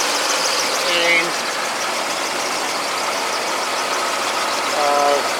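A vehicle engine idles steadily and loudly after its mixture screws and idle setting were adjusted. Someone talks over the continuous rumble.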